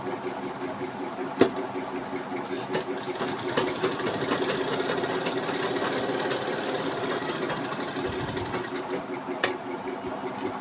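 Stitching a hook-band fabric strip, a sewing machine runs in a continuous rhythmic chatter for the whole stretch, fairly close, with a couple of sharp clicks along the way.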